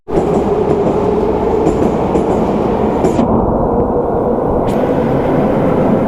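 A metro train pulls into a Saint Petersburg station with a loud, close, continuous rumble and roar that stays strong throughout. Brief high hissing bursts ride over the rumble, and no one speaks.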